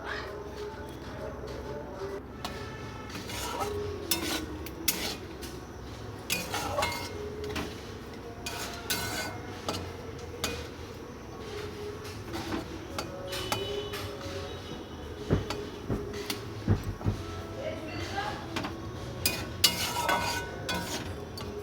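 Chili being ground on a traditional grinding stone in a Bengali home kitchen: repeated scraping and knocking strokes of stone on stone, uneven in rhythm, moderately close, with faint background noise and occasional clacks.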